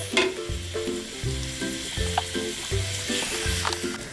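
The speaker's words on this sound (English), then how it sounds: "Now we just need to let the onion caramelize" Onions caramelizing in a hot pan give off a steady close sizzle and crackle, with occasional stirring scrapes and faint background tones, and no one talks.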